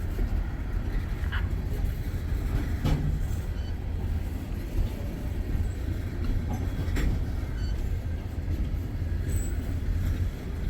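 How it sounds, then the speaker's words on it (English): A CSX train in Greenwich, Ohio rumbles steadily along the rails throughout, with a deep continuous roar and occasional faint metallic clanks and squeaks. "I think we're gonna have a halting train."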